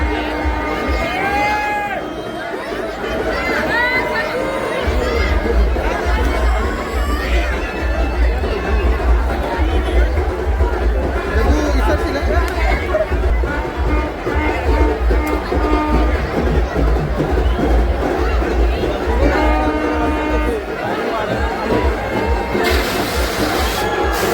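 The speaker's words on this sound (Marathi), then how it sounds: "यात्रेचा जल्लोष आपण बघू शकताय." A dense crowd at a village religious fair, loud continuous chatter and commotion all around with scattered shouts, close and busy, with a deep rumbling low hum underneath throughout.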